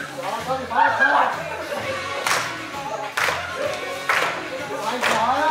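Members of a Danish choir clap together at a steady beat while learning a line dance, with sharp group claps about once a second under an instructor calling steps.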